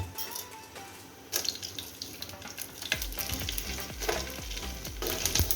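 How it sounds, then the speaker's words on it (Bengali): Whole spices, namely panch phoron, cardamom, cinnamon, bay leaf and cloves, go into hot mustard oil for beef with chickpea dal and start to crackle and sizzle steadily. The frying grows busier as the spices are stirred and clinked in the pan. "সরিষার তেলে দিব 5 ফোড়ন 2 চামচ। তারপরে দেব আমি এলাচ, দারচিনি, তেজপাতা, লবঙ্গ।"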